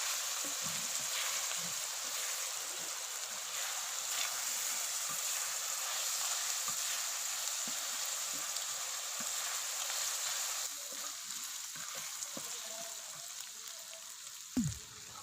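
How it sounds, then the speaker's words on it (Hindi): Ginger garlic paste fries with onions on a hot tawa, giving a steady close sizzle and crackle throughout, with occasional stirring clicks and a scrape near the end. "खाने वाले चम्मच अदरक लहसुन का पेस्ट शामिल करेंगे और प्याज के साथ मज़ीद 1 से 2 मिनट के लिए अच्छी तरह पकाएंगे"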